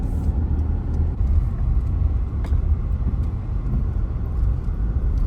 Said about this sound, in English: We drive through the desert.